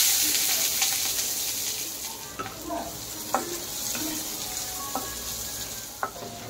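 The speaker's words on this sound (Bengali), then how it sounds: "তাই এখানে বেগুনটাও ভেজে নিচ্ছি।" Eggplant fries in a pan with a continuous hissing sizzle, punctuated by several distinct clicks and scrapes of a utensil against the pan at close range.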